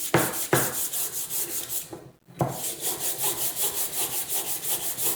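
A wooden router handle is hand sanded with 120 grit sandpaper, making a steady rhythmic scratchy rubbing of back-and-forth strokes, close and moderately loud, with a brief pause midway.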